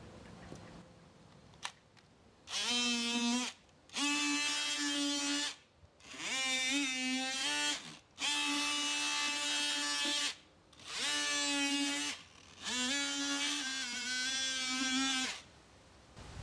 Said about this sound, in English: I'm gonna go again with the oscillating saw, make sure the inside of the pumpkin carving is actually more hollow